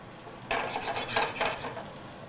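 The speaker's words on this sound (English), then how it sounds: "Gonna get these potatoes in. Try to get a nice sear on them." Potatoes hit hot oil in a pan to sear, a sudden loud sizzle bursting in and then crackling steadily with scraping, stirring noises on top.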